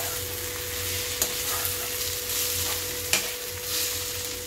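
Two green chillies fry in hot oil in a pan of squash curry, sizzling steadily up close while a spoon stirs with a couple of sharp scraping knocks.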